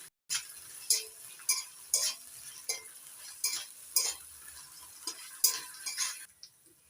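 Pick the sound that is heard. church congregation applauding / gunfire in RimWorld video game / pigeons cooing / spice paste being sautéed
spice paste being sautéed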